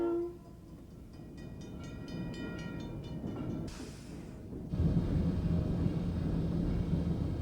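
A tourist train running through Vermont near Chester sends up a steady rolling rumble with a brief hiss, then a louder, closer stretch of wheel and engine noise. A horn-like tonal passage sounds early on, and no one speaks.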